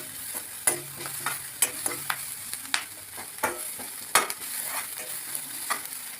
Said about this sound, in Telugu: మీడియం ఫ్లేమ్లో పెట్టి వేయించుకోవాలండి ఉల్లిగడ్డలు.